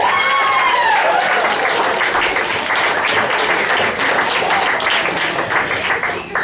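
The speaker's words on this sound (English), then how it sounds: "Please, warm round of applause for Mary Jane Watson" A comedy roast crowd at a bar breaks into sustained applause, a thick, close burst of many hands clapping that keeps going at full strength before easing slightly at the very end.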